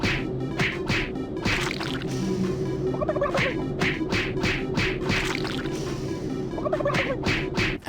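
Turkeys gobble repeatedly in the Doom video game, with loud, warbling bursts coming in quick succession throughout.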